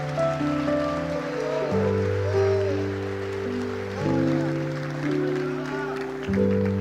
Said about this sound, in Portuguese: se a igreja crê, glorifique e aplauda bem forte ao nome de Jesus